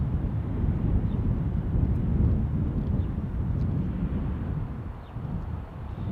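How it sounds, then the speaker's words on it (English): Delta Airbus A321 airliner taking the runway, a steady loud low rumble of engine noise with wind buffeting, continuous throughout with no voices. "looks like Delta on that 321 is taking the runway"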